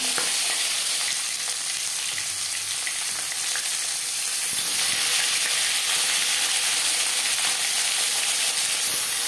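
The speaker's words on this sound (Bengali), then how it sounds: "মাথাটা একটু ভাজা হয়ে আসলে তারপর দেবো মাছ।" A rohu fish head fries in oil in a wok, giving a steady, loud, close sizzle with a faint crackle and no talking.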